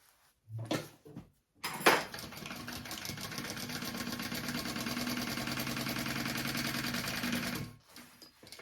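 A sewing machine bastes a fabric sling pocket closed, starting with a couple of short clunks before running in one steady, fast mechanical whir for several seconds, then stopping abruptly.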